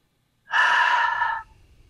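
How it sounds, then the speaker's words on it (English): A person breathes in deeply through the nose with hands cupped around the nose and mouth, a single long, loud, airy inhalation lasting about a second, then faint low rumble. "I'm taking three deep inhalations in."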